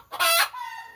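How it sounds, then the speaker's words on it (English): A backyard hen gives a single loud, raspy squawk after laying an egg, close by, followed by a brief fainter trailing call. "This is the sound you get after egg was laid."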